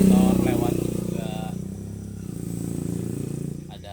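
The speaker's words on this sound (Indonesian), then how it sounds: "Banyak motor lewat juga." Motorcycles pass along a roadside beside a small food stall in Sibuak, Tapung, Kampar at night. A rising, then fading engine drone sits under nearby conversation, with a second bike humming past later.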